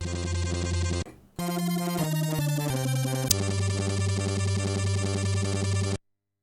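Bright Blofeld synthesizer tone, a wavetable arpeggio modulated by an LFO, with shifting rhythmic notes and a sweeping timbral wobble, loud and steady, with a brief dip partway through before ending abruptly.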